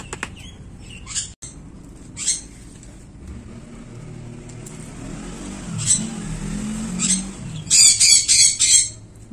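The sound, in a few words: pet parrots squawking noisily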